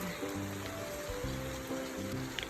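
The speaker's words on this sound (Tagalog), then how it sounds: "Grabe, ang lakas ng ulan." Heavy rain pours steadily over a backyard garden with an ampalaya plant as a dense, constant hiss, with a faint tonal hum running underneath.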